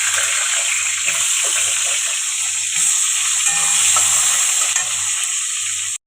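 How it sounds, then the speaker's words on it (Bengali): Potato pieces fry in hot oil with a steady, loud sizzling hiss and faint intermittent low thumps underneath, no voices. "এবার আলুটা দিয়ে দেবো, তেলে ভেজে নেব"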